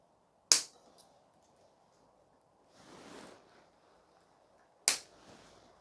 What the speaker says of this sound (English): Trimming to length with side cutters.